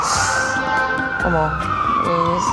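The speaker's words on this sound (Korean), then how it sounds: "이렇게 사이렌이 울리네요" A wailing siren in San Francisco sweeps up and down in pitch, loud and steady, with the oscillating tone rising and falling repeatedly over a constant background.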